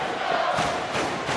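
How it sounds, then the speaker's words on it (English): A wrestling arena crowd in Wheeling roars and chants while fans pound on the barricade, a dense, loud, continuous wall of noise with rhythmic surges. "Arena floor shaking as the fans pounding on the barricade, chanting away."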